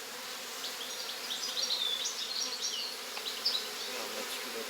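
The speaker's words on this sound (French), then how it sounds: "il y a de l'abeille, ça c'est une bonne chose." Honeybees buzzing around an apiary hive during a heatwave, a steady close swarm drone with individual bees darting past, fairly soft and continuous with no talk.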